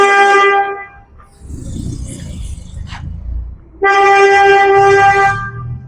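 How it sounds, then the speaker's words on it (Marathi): Close, loud honks from an Omni van horn sound at a wedding: one long steady blast, a pause filled with low rumble and faint clatter, then a second long blast. "गाडीला हॉर्न आहे त्याच्या ओमिनीच्या"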